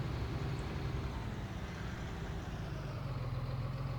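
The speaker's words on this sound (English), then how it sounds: "this 235 horsepower tractor is actually struggling to pull this small loading wagon" A 235-horsepower tractor in Farming Simulator 19 strains to pull a small loading wagon, its engine droning steadily at a low, laboring pitch and fairly loud with no voices.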